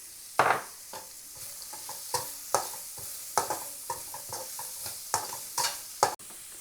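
Carrots and beans sauté with onions in a pan, a soft sizzle broken by repeated sharp scrapes and clatters of stirring, close by, with no speech.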